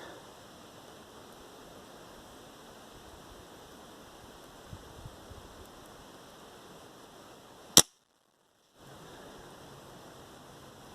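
A Sub12 springer airgun fires a pellet at long range outdoors, giving one sharp, close crack over faint background hiss, followed by a short dead silence.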